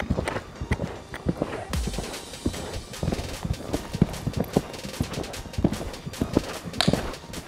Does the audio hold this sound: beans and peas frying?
no